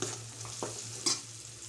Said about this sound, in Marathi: थोडंसं हिंग टाकायचं, छान असं मिक्स करून घ्यायचं